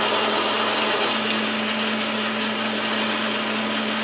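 A metal lathe makes a fine cut, giving a steady, dense hiss with a constant motor hum underneath and one brief sharp tick, close and continuous.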